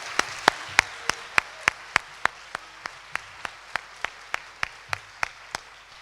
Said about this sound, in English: Can we have one final round of applause for our student presenters?